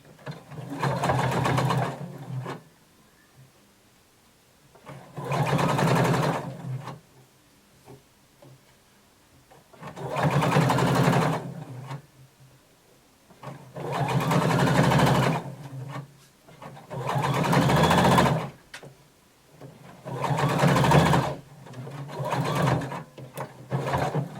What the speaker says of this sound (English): I'm going to sew close to the folded edge.